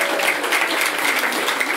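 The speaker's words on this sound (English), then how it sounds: "please give a warm applause to Stephen Barlett from the Social Chain!" Audience applause at a talk welcoming the founder of Social Chain onstage, a dense, even wash of many hands clapping, steady and fairly loud throughout.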